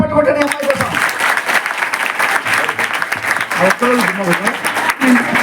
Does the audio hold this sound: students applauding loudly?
yes